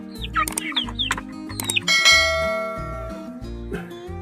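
Several hungry chicks of a native chicken cheep noisily while feeding, their busy chirps sounding over a loud rhythmic musical background with bell-like tones.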